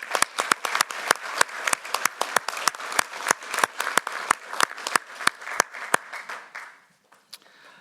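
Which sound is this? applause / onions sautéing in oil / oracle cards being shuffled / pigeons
applause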